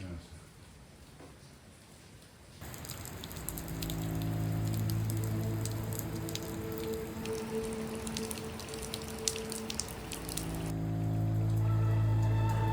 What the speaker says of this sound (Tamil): இந்த மழைக்கெல்லாம் தாங்க வேண்டியது.